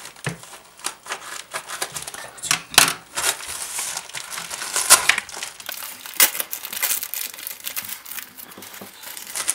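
A parcel of Ninjago minifigures is torn open up close, with irregular bursts of crinkling, crumpling packaging and sharp tearing rustles.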